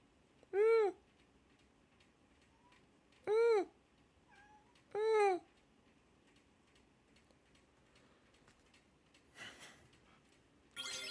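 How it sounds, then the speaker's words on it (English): A female pet cat fusses with three loud, drawn-out meows spaced a couple of seconds apart, followed by faint shuffling and a soft rustle in an otherwise quiet room. "She's fussing at me so much. She's the bossiest little cat."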